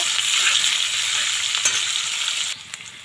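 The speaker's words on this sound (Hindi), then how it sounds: "एबे आम ए काटी जो पियाज ताको पकेबा।" Chopped onions sizzle steadily in hot oil in a pan while a potol kurma is cooked, a dense, continuous close-up hiss with faint crackles that drops a little softer near the end, with no voices.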